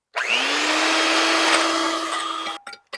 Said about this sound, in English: So I'm gonna cream this together a little with the mixer.